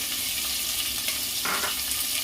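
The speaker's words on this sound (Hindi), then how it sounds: "इसमें मैं प्याज डाल रही हूँ" Onions going into hot oil with spices for a spicy jackfruit curry give a loud, dense, hissing sizzle, close up and continuous, with a brief swell of crackle partway through and no speech.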